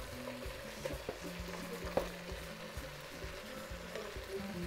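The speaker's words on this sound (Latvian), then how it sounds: "Un neaizmirstam, protams, laiku pa laikam samaisīt un" Tagine with raisins frying and being stirred in a pot: a steady low sizzle runs throughout, broken by intermittent scraping and stirring clatters close by, with no talking.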